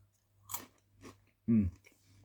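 Crunchy, spicy potato snack being eaten up close: a few soft crisp bites, then a short loud crunch, set against a low steady background hum.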